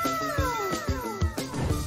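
A cartoon cat meows repeatedly in the Incredibox Sprunki animation, several quick, close, gliding meows in a row over a busy background.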